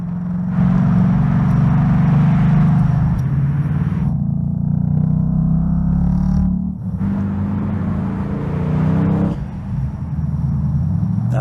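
A Ford Bullitt car engine in a commercial gives off a loud, deep, sustained rumble, with brief dips and shifts in tone between stretches of heavy droning.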